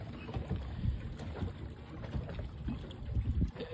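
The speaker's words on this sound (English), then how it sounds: "Look at this motor, it's awesome." A boat fitted with a new remote-controlled trolling motor cruises over open water, giving a steady low rumble with splashing and wind buffeting close to the microphone, with no talking.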